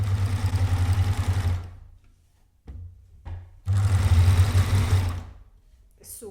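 A Babylock Euphoria coverstitch machine sews shirring in two steady, close runs of humming, whirring stitching. A quiet pause with a couple of brief clicks separates the runs, and a soft clatter comes at the end.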